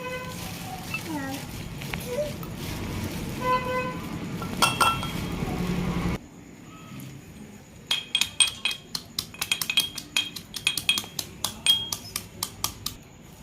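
Soaked ingredients pounded into a paste in a small stone mortar for a home remedy, heard as a series of sharp, irregular knocks and clinks close by, starting after a stretch of busier household noise with voices.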